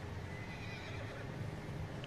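A horse whinnies in Red Dead Redemption 2, a steady, fairly quiet neigh running through the short stretch over continuous in-game background sound.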